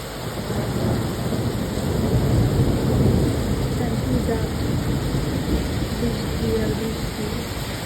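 Steady rain pours on a street at night in Italy, with thunder rumbling low through a continuous loud wash that lasts the whole stretch.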